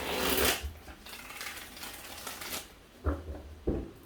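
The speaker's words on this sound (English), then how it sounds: "So let's get side B here. 3 shuffles." Tarot deck being shuffled by hand, soft papery riffling bursts at the start and middle, then two short separate shuffles near the end, quiet and close with no talking.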